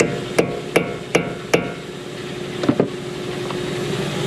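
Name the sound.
hammer knocking a car part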